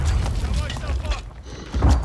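Heavy booming blasts from a grenade explosion in the video game Call of Duty Warzone, a deep low rumble with a strong thump near the end, under players' voices.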